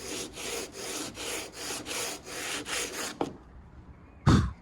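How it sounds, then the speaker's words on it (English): Sanding block fitted with 100 grit sandpaper rubbed back and forth along an old wooden window sash, about eight steady rasping strokes in a regular rhythm, close and clear, followed by a couple of brief knocks. "I'm going to use a sanding block."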